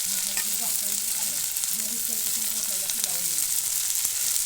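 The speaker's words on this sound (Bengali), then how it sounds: "পেঁয়াজটাকে ভাজা ভাজা করে নেব।" Chopped onion sizzles steadily in hot oil in a pan while bottle gourd peel is being cooked, a continuous close frying hiss through the whole stretch with a faint voice underneath.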